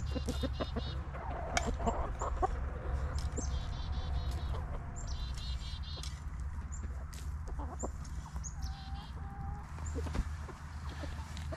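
Chickens and a rooster on a dairy farm cluck and call repeatedly over a steady low farmyard hum, with occasional sharper calls rising through the mix.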